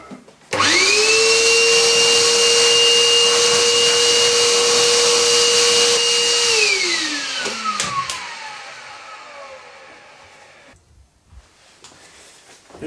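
A vacuum or power tool removing sawdust roars on abruptly, holds a loud steady whine for several seconds, then winds down gradually into a fading hum before a brief silence.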